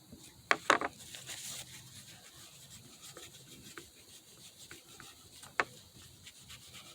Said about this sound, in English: I'm just going to keep polishing, polishing, polishing until that goes away.